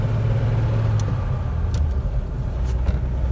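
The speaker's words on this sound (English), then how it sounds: "We'll go ahead and accelerate and get back into third, and then we'll demonstrate this fluid drive feature." A 1946 Dodge with Fluid Drive pulls through the gears into third, a steady close engine drone with low rumble and no talk.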